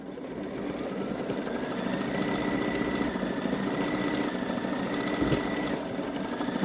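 A Babylock Solaris Vision embroidery machine stitches a diamond design onto a t-shirt, a steady, fast mechanical whir and rapid needle chatter that holds even throughout, with no talk.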